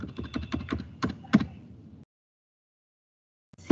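Quick bursts of typing on a computer keyboard, a rapid run of close, crisp key clicks for about two seconds, then silence before a final short cluster of keystrokes.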